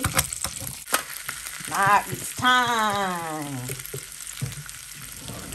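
A T-bone steak frying in a pan on a stove, with steady sizzling throughout, loud and close, and a voice talking briefly over it.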